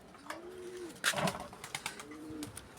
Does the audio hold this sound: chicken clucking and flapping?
no